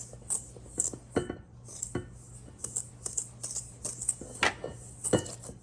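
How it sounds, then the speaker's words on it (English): A spoon clinks and scrapes around a bowl, stirring cinnamon, nutmeg and pumpkin spice for carrot cake batter, in quick irregular close clatters with a faint steady hum underneath and no talk. "I am going to go ahead and mix this up before I let it blend"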